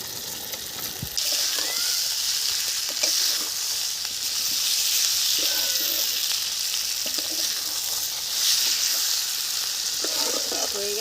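Potato pieces hit a pan of fried spiced masala, bursting into a loud steady sizzle with a hissing hash of frying. Stirring scrapes and soft clinks run through it, and no one speaks.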